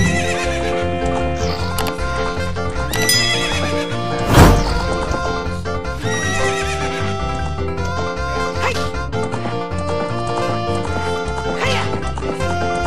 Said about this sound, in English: Let's play this, and she should come right to you. The little tiny horse you meet with Mallow